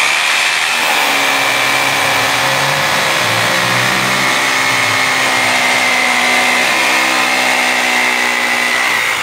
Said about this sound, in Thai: เดี๋ยวผมจะเจาะปูนให้ดูเลยครับเจาะได้จริง